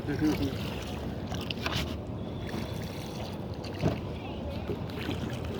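A rowboat drifts on the Mahanpur River in the afternoon, with a steady rushing wash of wind and water, a few soft knocks and indistinct voices now and then.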